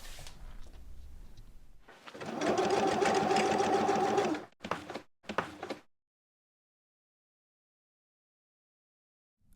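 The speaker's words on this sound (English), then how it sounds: "Lieselot sews samples and brings them to C Studio, a local sewing company in Ikest" A sewing machine stitching clothing samples runs steadily for about two seconds with a loud whirring hum, then stops and gives a few short bursts before silence.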